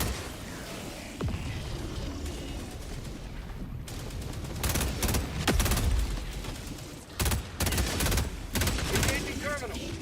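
SMG gunfire in a video game: repeated rapid bursts of automatic fire, loud and close, over a dense rumbling battle background with occasional heavier booms.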